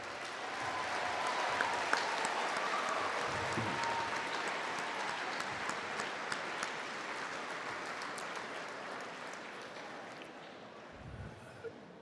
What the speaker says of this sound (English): how about a round of applause for your parents?